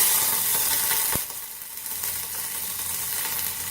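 Finely chopped onions sizzling in hot oil for a mushroom and green peppercorn sauce, a loud steady hiss that briefly dips after a clack, then continues frying evenly.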